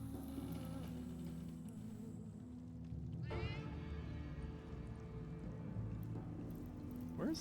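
In the fantasy role-playing game Divinity: Original Sin, a cat gives a clear meow midway and a fainter one near the end, over low droning game ambience with some soft clatter.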